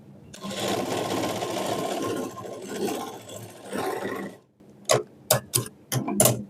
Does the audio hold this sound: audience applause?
no